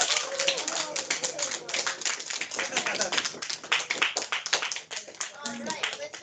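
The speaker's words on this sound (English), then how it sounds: "A round of applause, everyone." An audience at a stop-motion animation film festival claps in a lively, close round of applause that continues throughout, with voices talking and calling out underneath.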